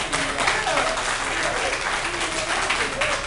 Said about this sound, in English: The ones that clap are the only ones that matter to me.